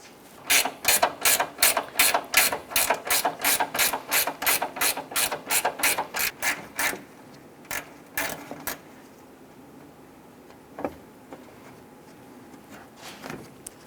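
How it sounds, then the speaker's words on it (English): Rapid, evenly spaced ratchet clicks from a wrench loosening a bumper bolt on a 2008-2013 Nissan Rogue, close and crisp for several seconds, then a few scattered clicks and quiet handling noises with no talking. "Get your wrench in there."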